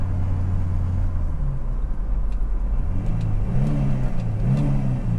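A Volvo 240 with a swapped-in T5 engine revs while driving, its engine note rising and falling through several throttle blips over a steady road and cabin rumble, heard from inside the car.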